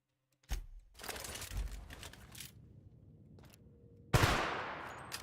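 A handgun fires in The Outer Worlds, with a few sharp separate shots and crackling echoes, then a louder final blast that rings out.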